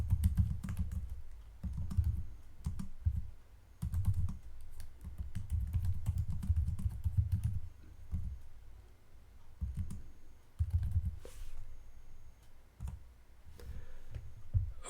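Someone types on a computer keyboard while writing a short script in a Linux terminal, producing close, steady runs of clicking keystrokes with brief pauses.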